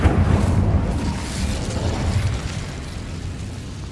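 The Incendio fire spell in Hogwarts Legacy lands as a deep whooshing burst that swells at once and then rumbles and fades over a few seconds, with no talking.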